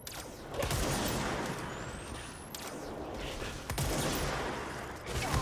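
Turrets in the video game Control fire sustained bursts of gunfire, a dense crackling fusillade with sharp individual shots near 2.5 and 3.7 seconds over a low mechanical background, moderately quiet.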